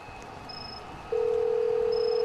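Steady telephone dial tone begins about halfway through, loud and continuous, preceded by faint background hum and brief high beeps, as a phone line is opened to make prank calls.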